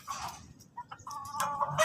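Chickens clucking near a flooded home, a few brief calls at first and then busier, louder clucks toward the end, with faint background noise underneath.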